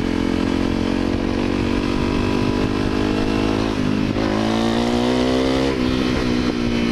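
A Honda CRF250L motorcycle with increased airflow rides along, its engine giving a loud, close, throaty drone with wavering pitch and small rises and dips in revs, and nobody talking.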